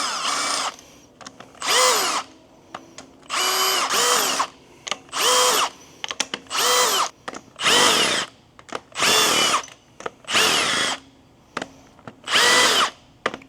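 Power tool on a twin-turbo 1993 Acura NSX engine cracking loose small studs, a series of about nine loud, close bursts of drilling whir, each a second or so long, separated by brief pauses with no talk.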